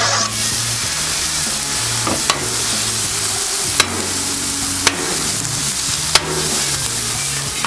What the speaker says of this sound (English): As soon as that steak hits the griddle, it's just amazing.